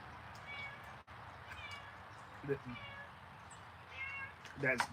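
A black cat meows several times, soft and fairly distant at first, then a louder, closer meow near the end, over a quiet background.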